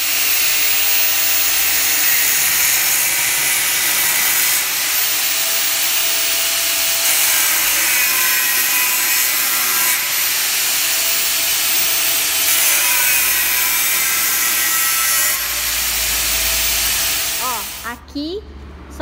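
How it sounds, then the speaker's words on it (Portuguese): A loud, continuous abrasive whine and hiss of an angle grinder cutting into a steel coin bank, sustained for many seconds with slight swells before cutting off at the end. "Ele vai cortar lá com a lixadeira e eu vou filmar lá pra vocês verem como que ele vai cortar o cofre."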